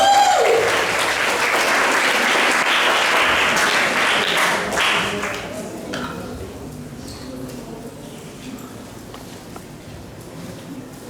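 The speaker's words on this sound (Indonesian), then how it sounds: "Beri tepuk tangan dong" A school seminar audience applauds loudly at first, the clapping gradually thinning and fading toward the end.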